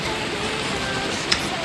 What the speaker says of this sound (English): as you can hear, the rain started pouring again